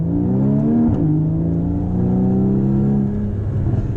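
A Porsche Boxster GTS engine climbing through the revs under hard acceleration, loud and close, with a brief dip at a gear change and then a steady rising howl.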